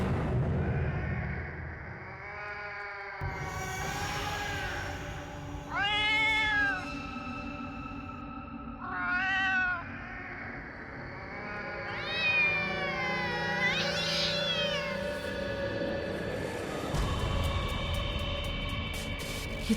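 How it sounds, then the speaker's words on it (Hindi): A cat meows several times, drawn-out and wavering cries spaced a few seconds apart over a steady background hum. "ये तो वही बिल्ली की आवाज है"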